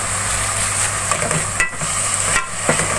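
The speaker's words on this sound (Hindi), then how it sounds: "अब इसको मिक्स कर लेंगे और हल्की आंच पे थोड़ी देर भून लेंगे।" Beef brain masala sizzles loudly in a pan, a dense continuous frying hiss close by with a few brief scrapes and knocks as it is mixed, no talk.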